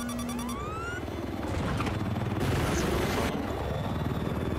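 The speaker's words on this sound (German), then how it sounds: "Da ist der Heli." Helicopter in the Battlefield 4 video game, a steady whirring rotor drone that swells slightly midway, mixed with other game sounds and effects.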